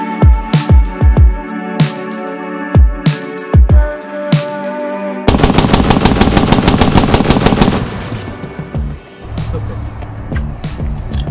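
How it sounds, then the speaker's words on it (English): A loud simulated machine-gun sound effect from the built-in sound system of a 1/3 scale twin-turbine RC jet model: scattered single bangs, then a long rapid rattling burst that fades into a rumbling tail, heard close. "The gun firing."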